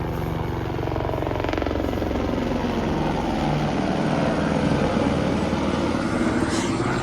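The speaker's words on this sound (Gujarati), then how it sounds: "એ જ હેલિકોપ્ટર છે આ હિમાલય વાળાનું છે" A helicopter flies over Kedarnath in the Himalayas, its steady rotor and engine rumble loud and continuous throughout, with no voices.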